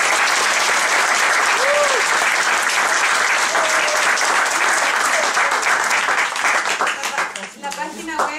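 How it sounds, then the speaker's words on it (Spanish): An audience at a talk applauds the speaker Andrés with a dense, loud and sustained roar of clapping that fades near the end as voices begin to come through. "Un aplauso a Andrés primero"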